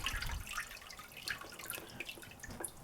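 Water drains and drips off a handmade papermaking mould lifted from a vat of warm pulp, a close, irregular trickle with scattered splashy drips.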